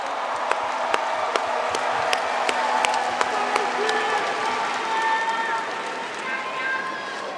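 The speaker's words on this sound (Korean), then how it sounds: "다시 한번 큰 박수 부탁드립니다." Applause from delegates fills the hall at a Democratic Party convention, a broad sustained wash of clapping punctuated by sharper individual claps, staying steady before gradually thinning.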